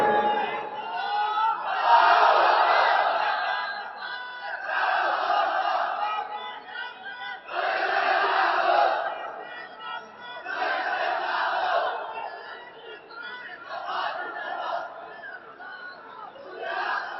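A large crowd at a Bangla religious sermon shouts the takbir in repeated rhythmic swells of massed voices, six loud waves rising and falling over about seventeen seconds.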